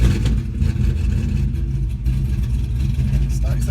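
A car engine running after a fuel-pump-related start, with a steady loud low-frequency rumble and slight revving throughout, close and continuous with no talk.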